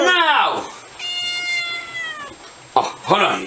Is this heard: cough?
no